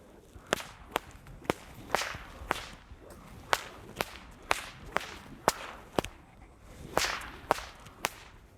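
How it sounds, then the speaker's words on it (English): Two bullwhips worked in a Queensland crossover with a lead hand change, giving a steady series of about sixteen sharp, loud cracks at roughly half-second intervals, some with faint swishing between them, no talking. "Do an overhead crack in one arm and spin the other whip over top of it"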